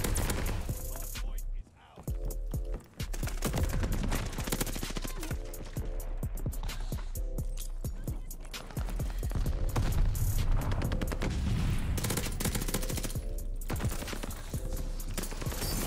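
Rapid Type 100 submachine gun fire in the shooter Call of Duty: Vanguard rattles in fast, dense bursts that run almost nonstop, with only two brief gaps, loud and close.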